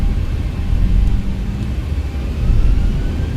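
An airliner at takeoff power on runway 33 at Castlegar, heard from the cockpit as a steady loud low rumble with faint thin tones above, swelling and easing slightly without any talk.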